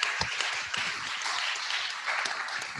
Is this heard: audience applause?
yes